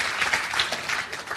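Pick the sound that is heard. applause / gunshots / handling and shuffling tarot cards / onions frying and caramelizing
applause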